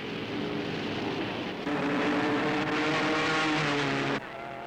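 Auto Union 16-cylinder racing engines from 1939 roaring at full throttle, a loud sustained drone with a steady pitch that swells louder partway through, then drops back abruptly near the end.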